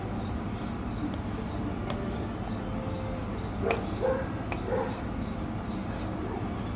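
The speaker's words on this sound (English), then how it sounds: "dogs are just barking up a storm" Dogs bark intermittently in the distance, a few short yaps rising over a steady outdoor background hum.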